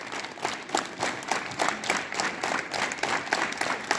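Group of people clapping their hands together at a school assembly, a fairly even, continuous patter of many claps, moderately distant and not very loud.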